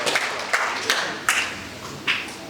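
Hands clapping during a church gathering, a handful of distinct claps at uneven intervals over a soft background murmur.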